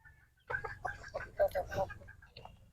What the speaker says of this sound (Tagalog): Yung manok nag-aantay na.